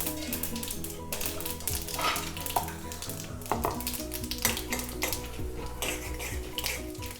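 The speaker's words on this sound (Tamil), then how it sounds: "இப்போ வந்து பிரெட் குழி பணியாரத்துக்கு தாளிச்சிக்கலாம். கடாய் வச்சுருக்கேன், எண்ணெய் விட்டுருக்கேன்" Mustard seeds, urad dal and chana dal tempering in hot oil in a kadai, a steady loud sizzle with crackling pops and the occasional scrape or clink of a utensil against the pan.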